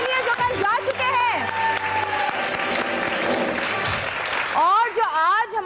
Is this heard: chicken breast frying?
no